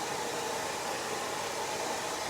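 A hair dryer blows steadily throughout a short bob blow-dry with a brush, a continuous broadband rushing hiss at a constant level, close and loud, with no voices.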